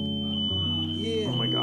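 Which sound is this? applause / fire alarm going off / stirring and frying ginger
fire alarm going off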